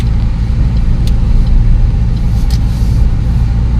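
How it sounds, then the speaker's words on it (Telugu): A Maruti Swift turbo diesel with 400,000 km on it pulls hard, its engine giving a loud, steady, close-up drone under acceleration with no one speaking. "టర్బో కిక్ అది డీజిల్ ఇంజిన్ యొక్క పవర్ అంటే అది"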